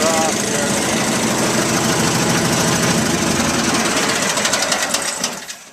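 A rebuilt 1973 Terra Jet amphibious vehicle fitted with a new motor runs steadily at idle, a loud, busy mechanical clatter with rapid ticking that holds even for several seconds before fading as it shuts off.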